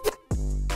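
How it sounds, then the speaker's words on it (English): A scratch effect in a music production remix, a short burst followed by a sudden rising sweep that settles into a sustained low tone, brief and fairly quiet. "I also add this scratch effect"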